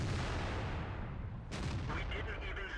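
A Panther tank's cannon fires once in World of Tanks: a single loud, sharp boom about halfway through rises from a dense rumbling background and then fades.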